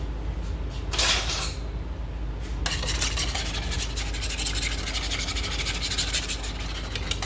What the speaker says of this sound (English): Still clumping up a little bit, so I'm going to use my whisk.